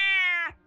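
The Talking Juan cat character lets out one sustained, bright, tonal meow close up, holding steady before breaking off abruptly, with only faint low thumps after.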